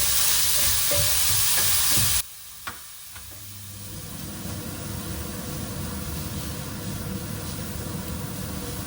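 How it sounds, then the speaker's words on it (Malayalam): Carrots and beans tip into a hot frying pan of kodo millet upma, setting off a loud burst of sizzling that drops to a steady, softer frying hiss with a few stirring knocks. "ഇനി ഇട്ട് കൊടുക്കുന്നത് ക്യാരറ്റും ബീൻസും"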